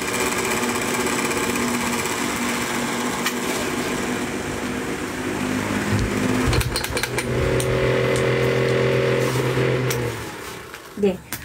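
An electric fan runs indoors with a steady mechanical hum and whir. It shifts in pitch and loudness partway through, as if the speed setting changes, and it cuts off near the end. Voices are faintly present.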